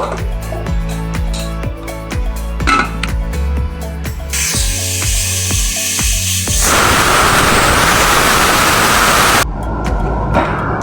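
A pressure cooker holding overnight-soaked chickpeas lets off a loud, sustained hiss of escaping steam for about five seconds, cutting in over background music that continues before and after.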